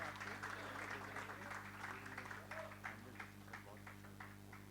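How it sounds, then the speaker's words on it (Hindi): Crowd at a Mumbai tribute-trailer launch event applauding Naik Deepchand, scattered claps over a steady electrical hum from the venue's sound system, fairly distant and thinning toward the end. "नायक दीपचंद जी साहब के लिए जोरदार तालियां।"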